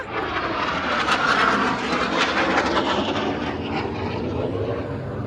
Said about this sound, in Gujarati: આમ જો અલ્ટો ઉપરથી પ્લેન જાય